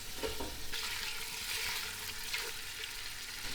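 Spicy Italian sausage sizzles and crackles steadily in a hot pan while being broken up and stirred, with occasional scraping clicks from a utensil, close and continuous with no talk.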